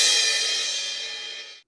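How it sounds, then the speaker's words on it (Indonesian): A kick drum and crash cymbal struck together on a drum kit, the crash ringing out loud and bright, then sustaining and fading over more than a second before cutting off. "Kemudian ketuk secara bersamaan kick dan crash."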